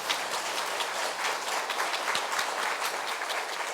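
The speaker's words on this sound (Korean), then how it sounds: "우리 다시 한번 큰 박수로 축복하겠습니다." Church congregation at a Thanksgiving Sunday service claps in sustained, even applause, moderately loud and slightly distant, with no speech over it.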